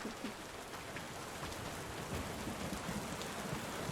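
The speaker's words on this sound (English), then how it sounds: "And now we have rain." Steady rainfall in the video game Tavern Keeper, a soft even hiss of drops pattering on surfaces, continuous and fairly faint with no voices.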